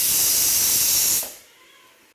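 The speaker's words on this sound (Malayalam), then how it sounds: "മൂന്നാമത്തെ വിസിലടിച്ചു നമുക്ക് തീ ഓഫ് ചെയ്യാം" The third whistle of a pressure cooker vents steam in a loud sustained hiss that fades out after about a second, followed by near silence and a brief knock.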